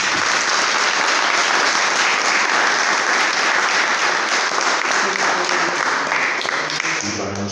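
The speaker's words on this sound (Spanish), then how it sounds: "pido un aplauso para Pablo" A lecture audience claps for Pablo in a sustained, dense round of applause that holds steady and fades slightly at the end.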